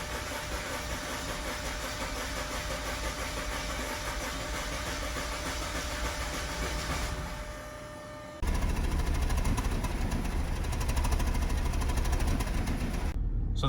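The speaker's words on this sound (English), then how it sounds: "We're gonna now try and start the vehicle, and we're gonna have a hard time" An Audi engine with misfires runs in a steady rough idle, then briefly dips before cranking back up to a louder, uneven idle with a low, lumpy rumble.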